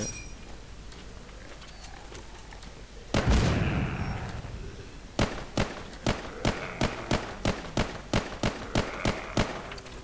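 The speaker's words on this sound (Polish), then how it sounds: "tylko tam idzie rzut granatem" A grenade explodes in The Walking Zombie 2 video game as a single loud boom with a rumbling tail, followed by a rapid regular series of sharp gunshots.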